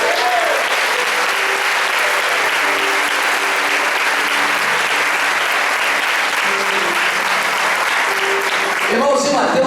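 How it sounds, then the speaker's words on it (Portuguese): Loud, sustained applause from a large church congregation, dense clapping filling the space from start to finish, with a voice breaking in at the end in Portuguese. "uma salva de palmas bem forte para ele"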